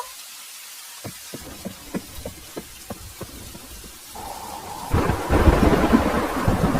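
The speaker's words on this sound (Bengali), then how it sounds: "বৃষ্টি যেন ধীরে ধীরে আরো বেড়েই চলছে" Rolling thunder cracks and rumbles again and again over steady rainfall in a Bengali village at night, then the rain swells into a loud, heavy downpour near the end. No one speaks.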